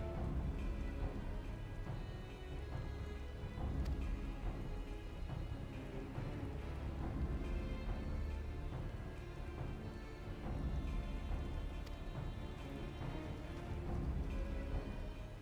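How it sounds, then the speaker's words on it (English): Steady rain falls in the video game Final Fantasy 14, a dense, even patter with a low rumbling bed that holds constant for the whole stretch, no voices over it. "It's raining, I can't do that."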